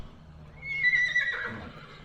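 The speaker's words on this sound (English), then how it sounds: "That's a big damn horse." A horse whinnies at fairly close range, a rising then wavering neigh of about a second over light outdoor background noise, with no talking.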